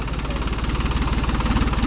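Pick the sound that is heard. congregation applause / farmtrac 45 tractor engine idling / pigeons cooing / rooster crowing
farmtrac 45 tractor engine idling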